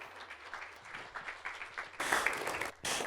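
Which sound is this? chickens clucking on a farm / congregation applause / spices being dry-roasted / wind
congregation applause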